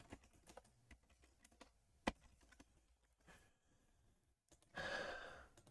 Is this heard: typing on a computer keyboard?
yes